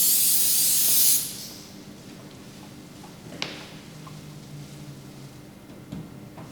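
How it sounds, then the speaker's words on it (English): A solvent cleaner is sprayed onto a car's surface ahead of wrapping, giving one loud, close hiss about a second long that stops sharply and leaves quiet room tone with a few faint clicks. "our first step of cleaning is to use our solvent cleaner to remove any waxes or polishes from the surface"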